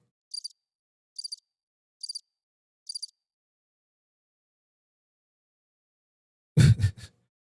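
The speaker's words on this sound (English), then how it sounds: "You hear crickets." Four short, evenly spaced cricket chirps ring out in an otherwise silent space, then a brief louder burst of noise ends it.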